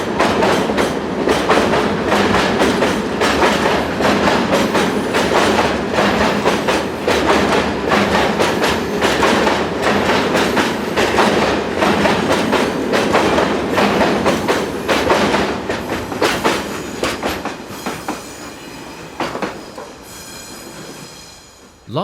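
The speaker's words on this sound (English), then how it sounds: "Crossing at just after midday is VFLI-operated G1206 locomotive, number 61740, seen heading towards Dunkirk" A VFLI-operated G1206 diesel locomotive, number 61740, crosses a bridge with a loud, steady rumble and rhythmic wheel clatter throughout, plus faint squeals. It fades slightly toward the end.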